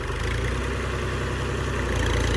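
A tractor engine runs steadily in a wheat field at sowing time, a continuous low idling rumble with a mid-frequency whir, close and unbroken, with no one talking.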